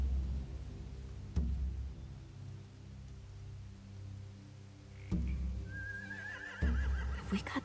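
Horses neigh in The Walking Dead video game, a rising whinny near the end over low rumbling ambience and a few dull thuds.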